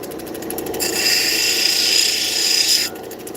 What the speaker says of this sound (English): I'm just going to take the edges of the JB Weld down to the edge of the turquoise